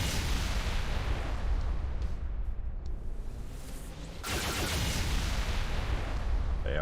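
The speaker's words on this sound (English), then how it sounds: "We're gonna fire the Super Max." Super MAC cannon aboard a ship in Halo Reach firing during multiplayer ship combat, a dense, roaring barrage of heavy booms that dips briefly then surges back loud and sustained to the end.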